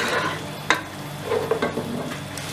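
Fresh ginger-garlic paste sizzling and frying in a masala for chikar cholay, with a steady close crackle, a few sharp stirring scrapes, and no talking.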